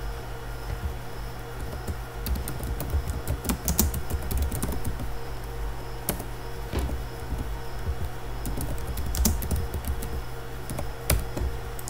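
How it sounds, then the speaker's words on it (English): Keys on a computer keyboard clatter in irregular bursts of close, crisp taps over a steady low electrical hum, with short pauses between the runs of typing. "I'll just type"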